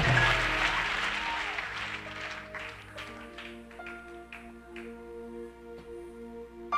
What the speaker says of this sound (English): Clap for Jesus if you believe it.